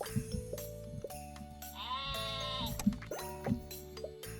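A sheep bleats once in the Terracards video game, a clear wavering cry lasting under a second over steady background game music with plucked notes and soft effects.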